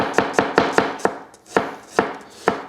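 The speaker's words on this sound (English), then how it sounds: "cutting up an onion." A knife chops an onion into slices on a cutting board, with about eight crisp, close knocks in an uneven rhythm and no talking.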